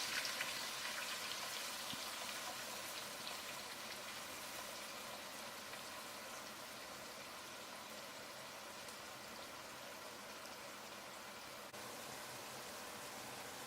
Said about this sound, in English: add the paste of 2 red onions and a bit of ginger and garlic into the hot oil. And fry it well for 2 to 3 minutes